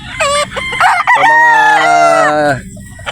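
A game farm rooster in Batangas crows loudly and close by, one long strained call rising then holding, with brief clucking sounds before it.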